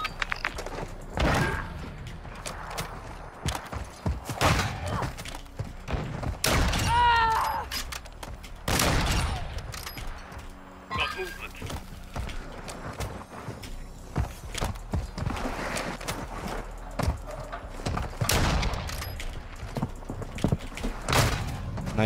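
Shotgun blasts ring out in a first-person video game duel, several loud, sharp bangs scattered among footsteps and clanks, with a voice chatting briefly in between.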